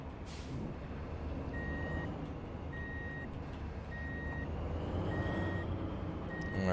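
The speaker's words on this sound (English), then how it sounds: "we're going to have to back the trailer in" Steady, evenly spaced reversing beeps from a truck backing a trailer in a trucking logistics simulator, five clear tones over a low engine rumble, with no talk.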